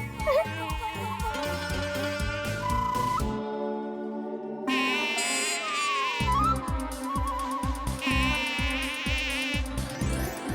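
A mosquito buzzes in a Hindi comedy show, a thin whining hum that drifts in pitch over a busy music and effects track, with a brief quiet gap partway through.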